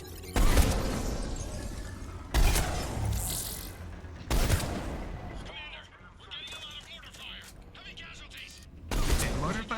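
Mortar and artillery fire booms in a video game battle, several loud broadband blasts at uneven intervals with rumbling decay between them, while voices talk over the action.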